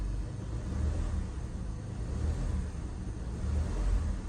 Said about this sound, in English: Just a little rev.